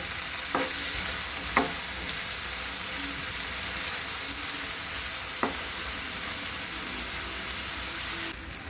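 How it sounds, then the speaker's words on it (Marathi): Tomatoes sauté with browned onion in a pan, a loud, continuous sizzle filling the clip while a spatula scrapes and taps the pan a few times before the hiss drops near the end. "आता आपण त्यात टॅमॅटो टाकणार आहोत ते आपण परतून घेणार आहोत"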